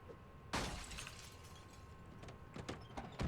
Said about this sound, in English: All right, looks like we need to smash a window.